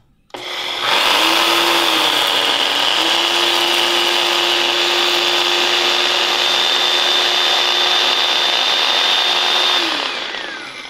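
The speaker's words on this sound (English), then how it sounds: "we're just gonna grind it up. So it's gonna look like a flour" A blender grinds oats into flour with one loud, close, steady high-pitched whir that starts abruptly, holds for about nine seconds, then winds down, with no talking.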